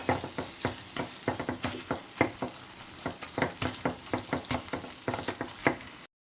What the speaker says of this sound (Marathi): स्मॅशरनं थोडं स्मॅश करून घ्यायचं म्हणजे पावभाजी आपली छान होते